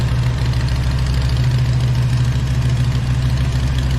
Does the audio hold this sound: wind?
no